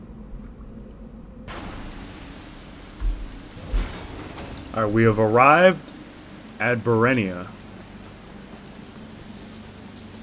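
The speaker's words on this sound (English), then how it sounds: "Very rainy." Steady rain hisses in the Burenia area of the Metroid Dread video game, with low thunder rumbles and game sound effects rising partway through, while someone talks over the storm.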